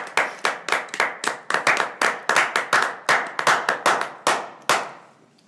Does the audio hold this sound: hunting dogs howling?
no